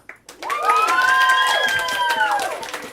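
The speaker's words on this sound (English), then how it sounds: "let's hear a round of applause for yourself" An audience at a live show at Outer Space in Arcata lets out a sustained, loud, high whooping cheer that holds steady for nearly three seconds, with only faint clapping beneath it.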